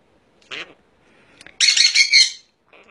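A sun conure or quaker parrot lets out shrill screeches, one short squawk and then a longer harsh scream close to the listener, with faint background noise between calls.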